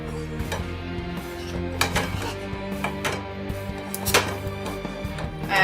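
A spoon stirs melting chocolate in a pot, giving light metallic clinks and scrapes at an irregular pace, close and fairly quiet, with no voices.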